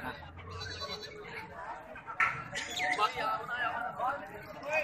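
A goat bleats repeatedly nearby amid steady crowd chatter and background murmur at a livestock market, its wavering cries rising over the noise.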